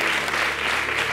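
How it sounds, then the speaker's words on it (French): Short burst of audience applause from a crowd at a local television event, dense steady clapping heard up close throughout. "On applaudit, oui."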